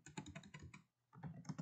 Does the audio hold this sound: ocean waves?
no